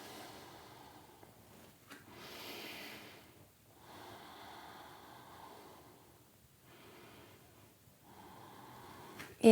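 Slow, deep breaths during a gentle yoga session, a few long drawn inhales and exhales with soft rushing airflow and quiet pauses between them, close and fairly faint.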